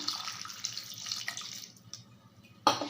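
Water pours steadily into a cooking pan holding dates for date halwa, a close, splashy hiss that eases off before a sharp knock near the end.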